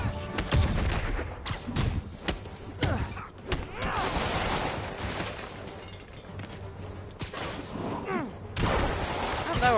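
Enemy gunfire in a Spider-Man video game: dense, overlapping bursts of shots and heavy impacts running continuously at close range, with occasional sharper blasts cutting through the busy game action.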